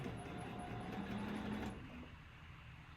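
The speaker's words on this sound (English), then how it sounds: "let me go sew" A sewing machine stitches quilt fabric pieces along a quarter-inch seam, with a steady mechanical whir that runs for a couple of seconds and then stops, fairly quiet and close.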